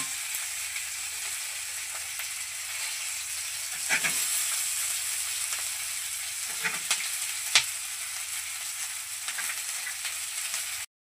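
Onion and tomato sautéing in a pan for a paneer gravy: a steady, bright hiss of frying carries throughout, with a few sharp spatula knocks and scrapes rising above it.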